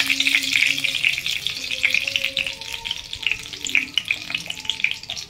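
Dried red chillies and black cumin seeds sizzle in hot oil as a tempering, with a steady close crackle and bursts of fine popping.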